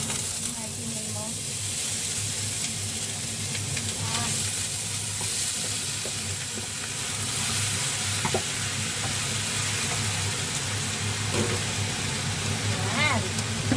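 Rice fries and sizzles in a hot pan with steady crackling and scraping stir strokes throughout, close and continuous, while someone talks over the cooking.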